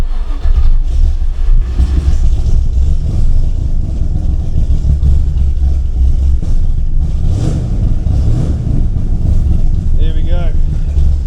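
Shelby Cobra kit car engine running, a loud, deep, rumbling idle close by that blips briefly, with someone speaking over it.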